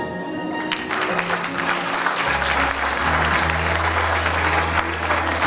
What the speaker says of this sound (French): on va l'applaudir quand même.